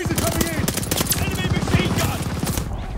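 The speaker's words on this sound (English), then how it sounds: "Enemy machine gun!" Rapid automatic fire from an enemy machine gun in the World War II shooter Call of Duty: Vanguard, a dense rattling burst that runs steadily for several seconds amid other battle noise.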